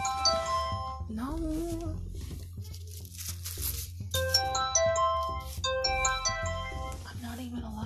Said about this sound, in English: I forgot to turn off my work phone.